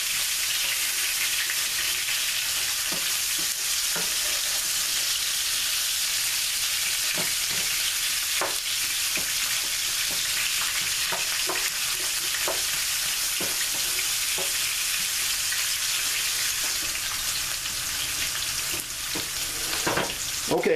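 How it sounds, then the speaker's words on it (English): Onions sautéing in a hot pan with steak drippings, a steady dense sizzle and crackle running close and loud throughout with occasional stirring clicks and scrapes. "So we're going to add our onions. We're going to saute our onions."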